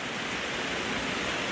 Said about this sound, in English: Look at this waterfall right here.